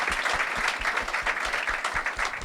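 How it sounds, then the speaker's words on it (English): An audience claps steadily at a triathlon club event in San Diego, a dense, sustained round of applause from a crowd close by. "How about a round of applause?"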